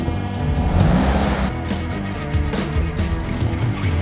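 A car engine rumbles close by as the car rolls slowly onto a raised position for exhaust removal, with a few revs and some clattering and scraping noises.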